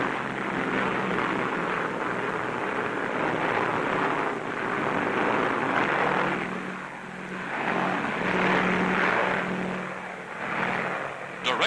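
A steady, rumbling drone of propeller transport planes and P-38 fighters fills the whole stretch, swelling and easing slightly, loud and continuous with no breaks.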